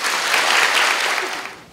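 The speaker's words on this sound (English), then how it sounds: "Let's give him a round of applause." Applause from an audience at a school assembly, a dense burst of clapping that fills the room, then fades over under two seconds.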